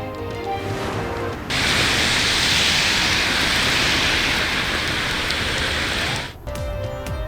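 Heavy downpour in the Balakot, Naran and Kagan area, a loud, steady roar of dense rain lasting several seconds, bracketed by brief stretches of quieter sound before and after.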